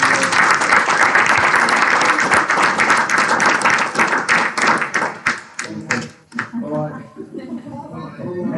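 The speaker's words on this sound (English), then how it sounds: "Ladies and gents, massive round of applause" Loud audience applause at a tech talk event, sustained clapping that breaks into scattered claps and fades as a speaker starts talking.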